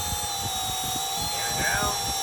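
Whining electric ducted-fan roar of an RC F-35 model jet hovering, a steady high-pitched whine close by, with a person talking over it.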